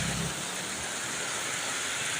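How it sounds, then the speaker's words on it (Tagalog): Heavy rain falls in a dense, steady hiss that is loud and continuous throughout, with a brief low rumble at the start. "Ano, laki ng ulan, no?"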